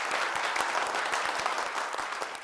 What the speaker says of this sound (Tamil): நம்ம டீமுக்கு வந்து ஒரு பெரிய கைத்தட்டல் கொடுத்துடலாம்.